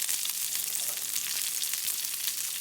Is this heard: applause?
no